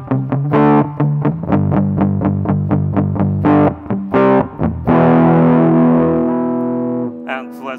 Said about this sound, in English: let's try some overdrive